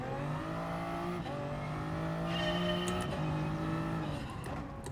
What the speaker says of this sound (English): There's a strange scraping sound with this car.